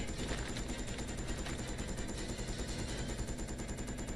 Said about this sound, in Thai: โอ้โหยิงเป็นร้อยไม่โดนยิงอะไรเนี่ย